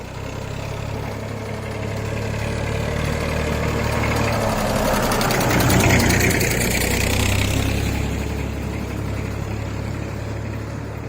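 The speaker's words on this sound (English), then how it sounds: "On a quiet village road, you have tractors also" A tractor engine chugs along a quiet village road in Kodagu, its rumble swelling as it passes near, peaking midway, then slowly fading away.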